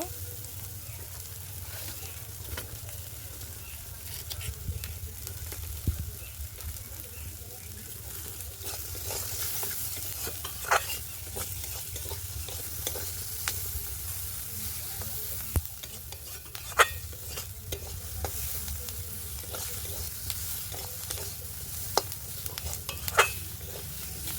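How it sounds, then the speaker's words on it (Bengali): Pieces of rohu fish and spices fry in a pan for a fish curry with eggplant, a steady close sizzle running throughout, with occasional light clinks and scrapes of a spatula against the pan. "হালকা একটু ভেজে নেব।"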